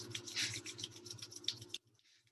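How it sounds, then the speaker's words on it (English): Palms rubbing briskly together during a workout warm-up, a steady close dry swishing friction lasting under two seconds before stopping into near silence. "Rub your palms together again."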